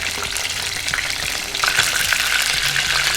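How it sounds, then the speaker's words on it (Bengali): Potatoes frying in hot oil left over from fried onions, for kacchi biryani, giving a steady close hiss and crackle that runs throughout with no pause. "পেঁয়াজ বেরেস্তার যে তেলটা আছে সেই তেলটাই গরম করে আমি আলুগুলোকে ভেজে নিচ্ছি।"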